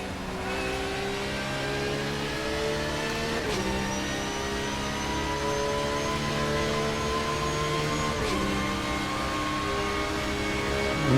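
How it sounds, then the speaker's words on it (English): A BMW's engine in an Assetto Corsa racing game holds a steady, droning note at high revs, with two brief dips around gear shifts and a slight rise in intensity near the end; no one speaks. "I can hear that BMW"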